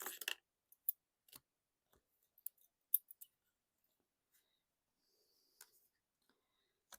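Scissors cutting around a paper shape, faint, sparse snips and clicks at irregular intervals against near silence.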